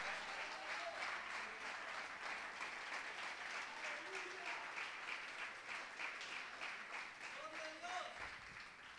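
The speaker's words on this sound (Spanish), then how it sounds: "Denle ese aplauso al Señor si puede." A church congregation applauds during a sermon, making a steady wash of clapping that lasts the whole stretch while a voice speaks faintly underneath.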